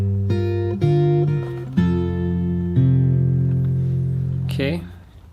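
Fingerstyle acoustic guitar plays the next bar of a song slowly, with several plucked chords ringing and overlapping, a brief slide or squeak near the end; close, clear and solo with no voice.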